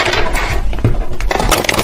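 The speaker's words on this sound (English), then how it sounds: "Let me see if I can actually shuffle this deck." A stiff tarot card deck being shuffled by hand, giving a rapid run of crisp, riffling card clicks and flutters, close and fairly loud, with no talking.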